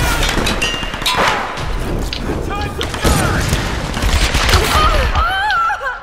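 Rapid gunfire in the PC game Tomb Raider, a dense clatter of shots and impacts mixed with game voices shouting and someone talking over the action.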